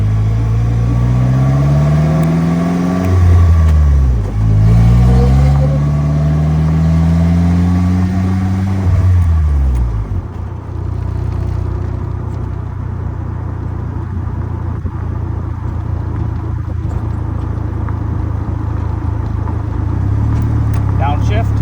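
A 2015 Polaris Slingshot SL pulls out onto the road, its engine revving up through several rising gear pulls before settling into a steady, close cruising drone with road noise.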